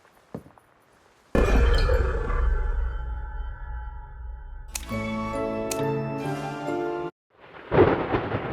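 Thunderstorm and rain in the video game Identity V: a deep rumbling roll of thunder swells in, rings on with tonal game sounds layered over it, then cuts out before a burst of rain-like hiss.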